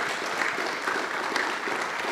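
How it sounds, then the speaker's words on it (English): A steady wash of applause from a crowd at a musical theatre society's annual general meeting, dense and even throughout with no breaks, fairly close. "Can we just have a round of applause there?"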